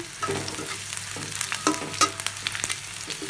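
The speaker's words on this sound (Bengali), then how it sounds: "পাঁচ ফোড়ন দিয়ে দিলাম" Panch phoron spices crackling in hot oil in a pan while taro is cooked, close sizzling with sharp pops and scraping stirs scattered throughout.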